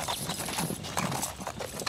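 Horse hooves galloping in the Imperivm strategy game, a dense, steady clip-clop rhythm throughout with a brief whinny-like texture, loud and up front without speech.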